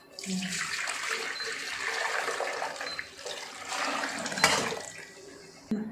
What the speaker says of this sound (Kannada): ಬೇಕಾದ್ರೆ ಈ ನೀರನ್ನ ಅದಕ್ಕೆ ಹಾಕೋಣ